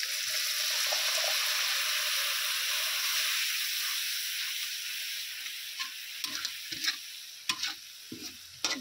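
Water hits a pan of sizzling spice masala with red chilli powder, cooked for a chicken skin curry, and sets off a loud, steady hiss. The sizzle slowly calms, followed by a few soft stirring clinks and scrapes near the end.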